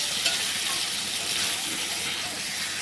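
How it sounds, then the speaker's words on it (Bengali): Spice paste for a raw banana bora curry being sautéed in oil, giving a steady close sizzle and frying hiss with light stirring throughout, no talk. "ভালো করে মশলাটা কষাতে হবে"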